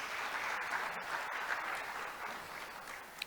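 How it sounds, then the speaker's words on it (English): The audience at an Africa tourism leadership forum gives a steady round of applause, many hands clapping evenly at moderate distance in a hall. "A big round of applause, please"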